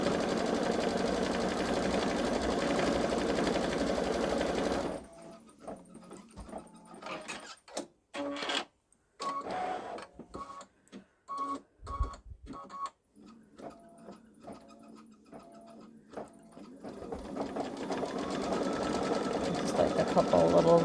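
A Babylock Solaris Vision embroidery machine stitches a Santa snowman design, its steady close mechanical whir running loud at the start and end, broken midway by quieter intermittent stitching, with a voice speaking.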